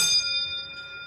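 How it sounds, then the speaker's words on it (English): A loud Schindler hydraulic elevator bell rings once with a bright onset, its clear metallic tone sustaining and slowly decaying. "It's a loud bell."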